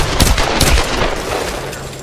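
Gunshots from the Tomb Raider video game sound as loud, dense bursts over a rumbling, noisy backdrop, with no talking.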